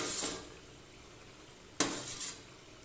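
Fried rohu fish pieces dropped into a pan of curry with vegetables make two quick, close clinks against the metal pan followed by a soft sizzling hush, with a short gap between them.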